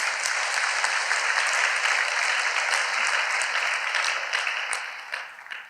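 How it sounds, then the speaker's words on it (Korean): Audience applause fills a church hall, dense and steady with many hands clapping together, then thinning and tapering off toward the end. "아주 박수 한번 쳐줍시다"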